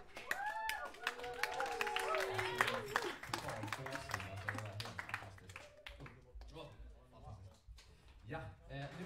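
An audience applauds a band after a jazz student showcase at a folk high school, a steady wash of clapping that runs the whole stretch under a speaker's voice and some cheering.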